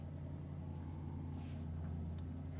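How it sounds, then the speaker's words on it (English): A souped-up Seat Leon passes with a steady, deep engine rumble that stays fairly faint and even throughout, with no voices over it. "Souped up Seat Leon."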